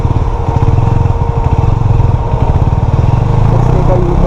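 A 2017 KTM Duke 250 motorcycle engine runs while riding in Bangalore, a loud, steady, buzzing single-cylinder drone that stays close and constant throughout.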